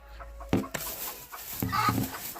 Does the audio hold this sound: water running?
no